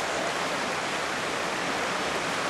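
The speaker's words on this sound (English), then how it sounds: "a large amount of swiftly flowing water" A river carrying a large volume of swift water past a prospecting site, a dense steady roar and hiss that fills the whole scene without letting up.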